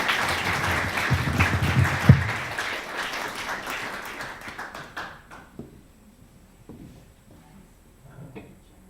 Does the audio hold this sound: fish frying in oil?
no